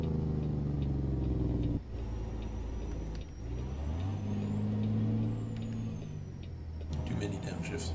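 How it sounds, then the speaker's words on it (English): A heavy truck engine in American Truck Simulator runs loud and steady, its drone breaking off abruptly at each gear change before climbing in pitch again through several downshifts, with a brief air-brake-like hiss near the end. "Too many downshifts."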